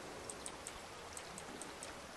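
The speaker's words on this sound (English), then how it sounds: "it's starting to rain" Rain in the ocean survival game Raft falls as a steady soft hiss, with faint, scattered drip-like ticks over it and no talking.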